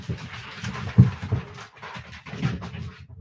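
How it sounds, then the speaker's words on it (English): A dog skitters and slides across wood floors upstairs, giving muffled, irregular thumps and scrabbling bursts that sound distant and indoors, with a few heavier knocks among them. "That's the dog skittering all over the wood floors upstairs"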